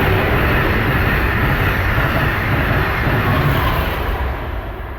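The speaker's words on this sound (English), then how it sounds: "You'll hear a lot of those in my videos as I'm right next to the train tracks." A train rumbles past on tracks right beside the yard, a loud continuous roar with rolling low clatter that fades slightly near the end.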